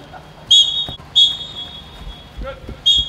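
Three short, shrill whistle blasts at steady intervals during a football team training session, with faint voices and movement in the background.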